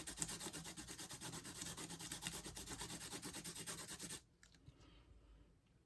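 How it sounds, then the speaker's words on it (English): Steady, rapid rasping of a pastel pencil tip being sanded, continuous and close for about four seconds, then stopping abruptly into quiet. "you just keep sanding as much as you want"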